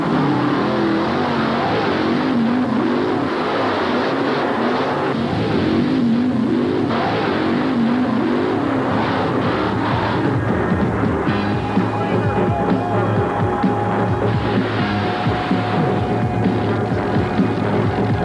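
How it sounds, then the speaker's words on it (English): At a 1988 truck and tractor pulling event in Atlanta, powerful engines roar and rev loudly and continuously, the heavy pulling machines straining with rising and falling pitch over a constant mechanical drone. "the thrilling spectacle of truck and tractor pulling."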